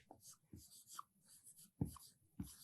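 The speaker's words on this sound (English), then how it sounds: "So let's write that down." Pen or marker strokes writing a short list of names, heard as a few separate scratchy bursts with short pauses between them, close and fairly faint, with no talking.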